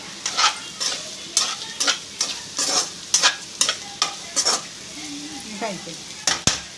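Potato fry sizzling in a pan while a spoon stirs it in steady, regular scrapes and clanks, with a faint voice briefly audible near the end.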